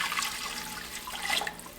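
Water splashes and gurgles steadily as one litre is poured into a cooking pot, close by, with no talking.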